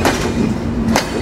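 Shimanto Express with broad-gauge locomotive 6303 and Indonesian-built coaches sweeps into a station at high speed, a loud close rush of wheels and air with two sharp bursts of rattle.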